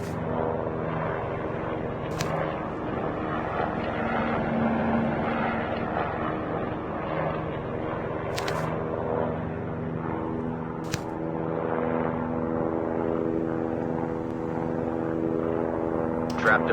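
Aircraft engine drone during a battle royale video game match, a steady propeller-like hum with a tonal whine that holds for the whole stretch, along with a few short sharp game effects.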